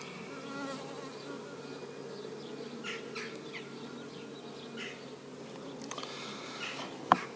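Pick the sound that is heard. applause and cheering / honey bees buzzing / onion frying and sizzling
honey bees buzzing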